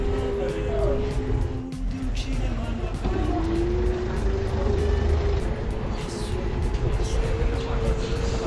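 A moped passes on a road in Orune, Sardinia, its small engine droning with a rising and shifting pitch, close and steady amid background outdoor noise.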